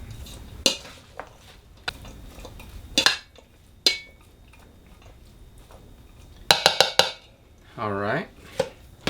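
Cabbage stirred in a pan for Carne Apache, with a series of sharp utensil clinks and scrapes against metal, some in quick bursts, plus a brief tonal rattle near the end.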